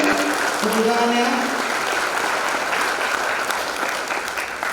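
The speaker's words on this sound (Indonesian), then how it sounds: "Tepuk tangannya." Audience applause at a campus student orientation event, a dense steady clatter of many hands clapping throughout, with a voice speaking briefly over it at the start.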